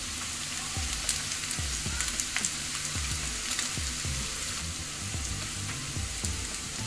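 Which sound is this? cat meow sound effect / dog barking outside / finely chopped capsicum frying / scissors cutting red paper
finely chopped capsicum frying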